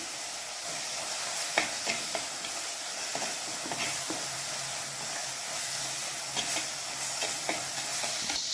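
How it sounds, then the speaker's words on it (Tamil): Chopped onions sauté in a pan for Tamil chicken curry, giving a steady close sizzle and hiss with scattered stirring clicks and scrapes throughout; no talking. "இப்போ வெங்காயம் நல்லா வதங்கிட்டு இப்போ கொஞ்சம் உப்பு சேர்த்துக்கலாம்."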